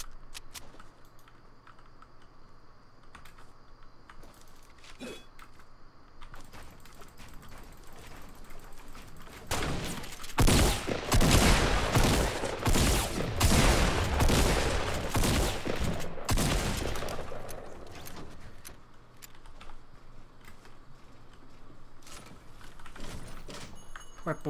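Shotgun fire in Fortnite erupts as a dense burst of loud, close blasts and mechanical clacks lasting several seconds, framed by quieter stretches of game noise, with no talking.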